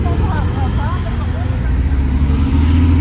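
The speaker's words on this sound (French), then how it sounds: "Voilà, petite GT3." A Porsche GT3 RS sports car engine rumbles steadily and loudly nearby, a deep continuous drone with faint whine above it.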